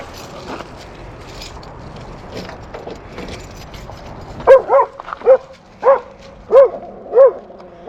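Two dogs on a ride to the beach bark near and loud, about six sharp barks in an uneven run after softer rustling and jingling with a car in the background.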